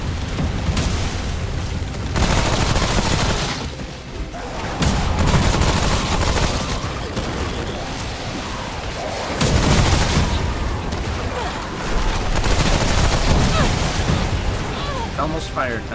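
Dense, loud gunfire from Remnant: From the Ashes, rapid bursts and booming shots layered almost without pause, with a voice talking over the barrage.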